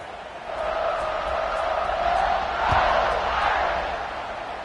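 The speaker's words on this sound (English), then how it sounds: "this crowd is feeling themselves after that last drive" Stadium crowd in the NCAA 26 college football video game roars steadily through a kickoff, a broad continuous cheer that swells slightly midway and holds loud without any talk over it.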